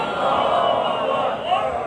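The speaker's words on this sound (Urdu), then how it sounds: "آپ حضرات محبت برے عقیدت برے نعرے کا جواب دیجیے، نعرہ تکبیر" At a Mawlid gathering, a large crowd of voices chants together in unison in answer to a religious call, loud and sustained, with no pauses across the short stretch.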